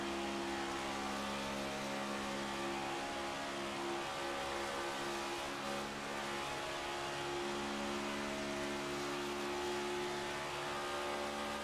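A race car engine in a racing video game holds a continuous, loud, buzzing drone with steady harmonic tones, the pitch rising slightly as the revs climb, with no talking.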